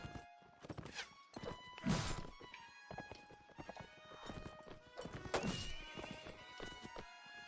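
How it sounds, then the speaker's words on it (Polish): Horse hooves clip-clop steadily in Mount & Blade Warband, a medieval combat game, with repeated close thuds and a whinny or two over a continuous game soundscape; no talk is heard. "I Mira na koniu."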